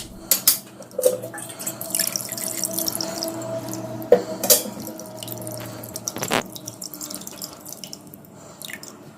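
Tap water splashes and drips steadily while homemade paneer is rinsed in a sink, with uneven spatters and a few sharper drops over a continuous low wash.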